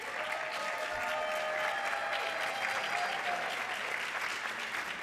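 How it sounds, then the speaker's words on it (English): Audience at a youth talent showcase applauds steadily, a dense wash of clapping that holds at an even level for about five seconds with no break. "please give them the applause"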